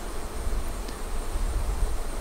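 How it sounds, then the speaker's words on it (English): Honeybees swarm over a hive cover, cleaning off dripped honey residue, making a steady, dense buzzing hum close by with no voices. "the bees went right after the honey residue that's on it and they're cleaning it up"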